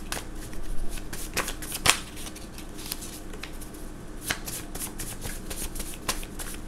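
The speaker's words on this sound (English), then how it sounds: "These cards are kind of hard to draw sometimes." Tarot cards being shuffled and drawn, with a close run of crisp riffling flicks and snaps in irregular bursts, fairly quiet and with no talk over it.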